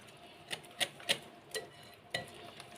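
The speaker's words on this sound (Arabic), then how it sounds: "هنقلب بقى كل ده مع بعض كويس جدا جدا كده" Spice mixture being stirred in a bowl for fried cauliflower: a handful of short, quiet scraping and tapping strokes of a utensil against the bowl, spaced unevenly.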